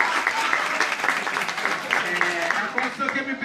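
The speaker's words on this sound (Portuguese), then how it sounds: "Uma salva de palmas pro Cearão" Applause from an audience at a school talk event, a continuous crackle of many clapping hands, fairly soft and steady, with voices faintly mixed in beneath it.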